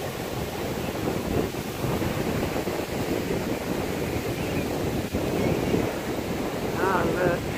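Ocean waves washing onto a shore, a continuous broad surf roar heard up close with wind buffeting the microphone, steady throughout with slight swells in loudness.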